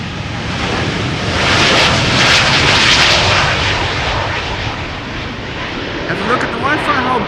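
An American Airlines jet bound for Dallas Fort Worth departs from Schiphol's Polderbaan runway, its engines swelling into a loud roar that peaks midway and then eases, with wind buffeting the microphone and a voice speaking over it.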